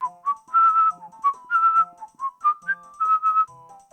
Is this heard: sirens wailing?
no